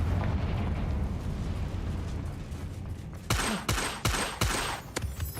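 Confringo fire spell blasts from the game Hogwarts Legacy boom in a rumbling burst, then a rapid series of sharp explosive pops in the last couple of seconds, loud and close.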